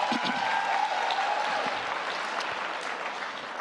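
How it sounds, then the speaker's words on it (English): An audience at a product launch expo claps in a burst of applause that starts full and gradually thins and softens, with a few scattered claps lingering toward the end. "do give him a round of applause because it's really amazing"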